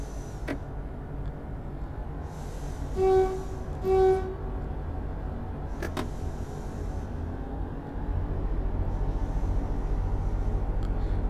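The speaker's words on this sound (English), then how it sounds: "Train's actually moving." A train in the Train Sim World game pulls away with a steady low rumble, two short tonal horn-like blasts near the middle, and a few sharp clicks.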